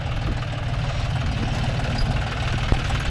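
A John Deere 5105 double-clutch tractor idles nearby, its engine giving a steady low rumble with constant vibration and a single brief knock near the end, no talking.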